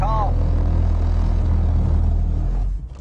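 A Mercedes 190E spins on a racing circuit and stalls: a loud, steady low engine rumble runs for nearly three seconds, then drops away abruptly as the engine dies.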